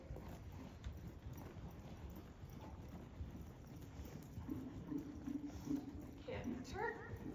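A horse canters under a rider, with muffled rhythmic hoofbeats in a soft, noisy outdoor setting, heard faintly behind wind and background noise, and a voice toward the end.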